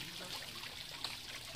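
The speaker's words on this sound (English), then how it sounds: "here we got tiny water spring" A tiny natural water spring in a park in Tikapur, Nepal trickles with a faint, steady, hissy flow, soft and continuous, with a couple of small splashy flickers and no voices.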